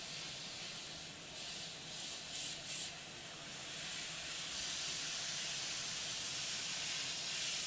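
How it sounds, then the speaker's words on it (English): A model-painting airbrush hisses steadily at low air pressure, a close, continuous spray with a couple of brief dips before settling into an even, breathy stream, with no talk over it. "listening to your airbrush, and you can actually hear it"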